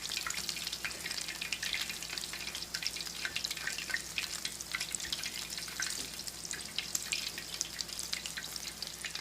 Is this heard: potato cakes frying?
yes